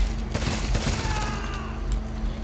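Rapid automatic gunfire from the video game HomeFront rattles in a dense, loud burst that fills the whole moment.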